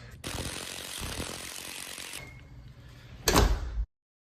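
Door from a security kit installation swung shut with a snug fit, followed by its bolt engaging: steady mechanical rubbing and sliding, then a sharp, loud clunk as the latch seats, close by with no talk.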